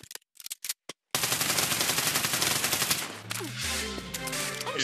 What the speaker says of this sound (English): gonna shoot him again.